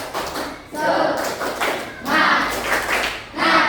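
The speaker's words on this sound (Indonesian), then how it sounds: "Oke, tepuk semangat." Schoolchildren in a classroom performing a rhythmic group clap, bursts of synchronized clapping in short patterned phrases, fairly loud and close, with voices chanting along between claps.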